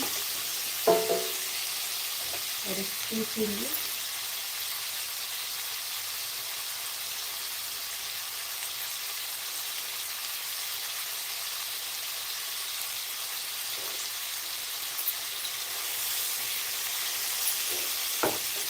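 Tomatoes cooking down in a pan for a brinjal curry give a faint, steady hiss with no talk, broken early on by a few brief clatters of stirring.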